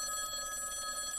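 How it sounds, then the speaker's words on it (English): A rotary telephone's bell rings steadily and continuously at a moderate level, with no voices over it. "The phone's ringing."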